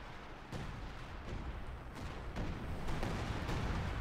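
Heavy gunfire in Company of Heroes 2, with shells striking and bouncing off a Jagdtiger's thick frontal armour during a tank battle, heard as a dense, continuous stream of booming shots and impacts that grows slightly louder toward the end.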